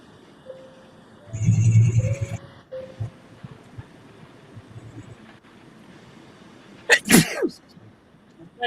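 A single loud, close sneeze bursts out sharply near the end, following earlier muffled low noise and faint tonal sounds in a quiet room.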